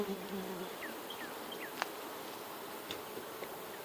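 Honey bees buzz steadily around tall, strapped beehives during a honey harvest, a dense outdoor hum with faint passing insect tones and a couple of brief clicks; no one speaks.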